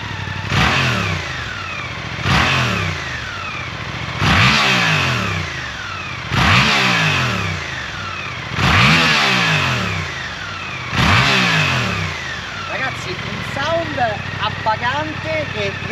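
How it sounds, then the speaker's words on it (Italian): A Suzuki GSX-8S twin-cylinder motorcycle engine is blipped hard several times in a row, each rev rising and falling in regular bursts, close and loud, then settling into a lumpy idle at the end. "visto che il bicilindrico è caldo, fiato alle trombe, Turchetti!"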